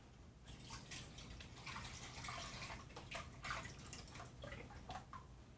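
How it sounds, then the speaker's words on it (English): Vegetable stock pours into a pot of lentil soup in a steady, faint liquid splash and trickle, continuous and close, with no speech. "we're going to add 3 cups of vegetable stock."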